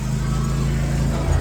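A riding lawn mower engine hums in a steady low drone close by, unbroken through the moment with a slight shift near the end.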